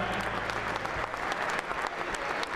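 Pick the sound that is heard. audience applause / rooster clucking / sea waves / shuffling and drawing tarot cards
audience applause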